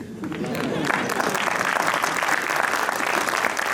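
Applause from the audience at a Hindi poetry festival stage event, a dense, continuous wash of clapping held at a steady level throughout, no talk over it.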